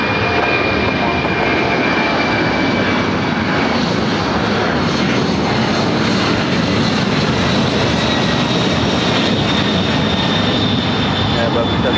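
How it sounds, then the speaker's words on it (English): An ABX Air cargo jet takes off from the south side of LAX, its engines a loud, continuous broadband roar that holds steady throughout, with talk partly buried under it. "ABX Air taking off here on the south side."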